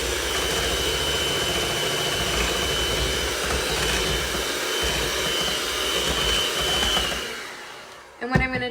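An electric mixer beats eggs into corn spoon bread batter in a bowl, a loud steady whirring drone that runs continuously, then winds down and stops, with a clunk at the end.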